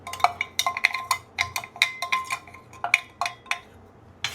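Raw rice and black gram dry-roasting in a pan, stirred with a utensil that gives a steady run of sharp metallic clinks and scrapes against the pan, close and fairly loud, with no talking.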